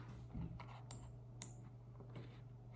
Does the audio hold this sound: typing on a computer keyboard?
yes